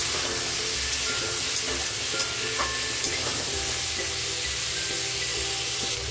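Sweet corn mixed vegetables with turmeric and salt are stirred in a hot pan, giving a steady loud sizzle and frying hiss with soft scraping stirs throughout.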